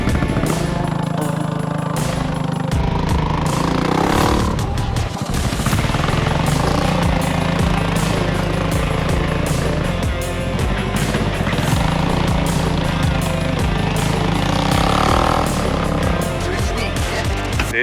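A cheap moped without a muffler blares loud and raw throughout a test ride, its engine note rising and falling through repeated revs and gear changes, with brief voices mixed into the steady roar.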